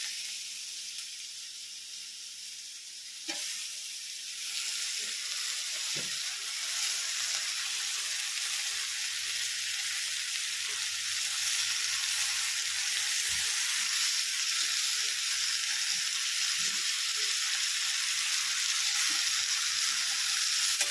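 Chopped tomato added to browned onion in a frying pan, a soft thump and then a steady hissing sizzle with occasional stirring clicks, growing slightly louder.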